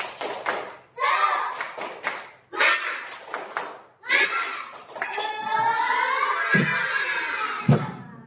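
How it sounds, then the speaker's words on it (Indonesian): A classroom of children performs the tepuk semangat spirit clap, bursts of loud rhythmic group clapping separated by short pauses, with children's voices chanting along and a final sharp claps near the end. "Ayo, tepuk semangat."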